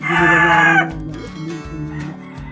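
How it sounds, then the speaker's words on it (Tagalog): A rooster crows loudly and close at the start, then chickens in a backyard coop cluck in short repeated bursts as the crow fades. "medyo marami-rami rin yung manok dito eh"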